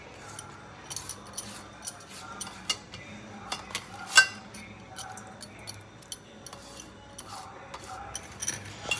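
Chopped carrot, cucumber, onion and capsicum are mixed by hand into a paneer filling for sandwiches, with a quick, irregular series of close metallic clicks and scrapes of a spoon against a bowl, one sharper knock near the middle.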